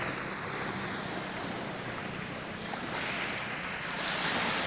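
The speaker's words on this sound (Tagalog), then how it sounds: "Ang tunog ng dagat parang nakakawala ng problema" Steady wash of sea waves rolling in at a beach resort, a broad continuous roar with gentle swells and some wind noise, no voices.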